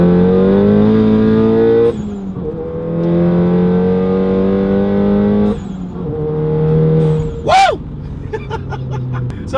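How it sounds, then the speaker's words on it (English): A VW MK7 GTI fitted with a BFI Stage 4 clutch runs loud and close, its engine droning steadily through gear changes. The low drone dips briefly at each shift, and a short, sharp burst follows near the end. "So you hear the chatter again."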